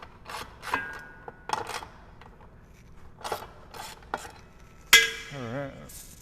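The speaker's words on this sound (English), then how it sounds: "we want to use a wrench just to kind of break the Loctite loose." A wrench breaking Loctite-secured bolts loose on a new jet ski's intake grate gives scattered short metallic rasps and scrapes in quiet surroundings, ending with a sharper clank and ringing.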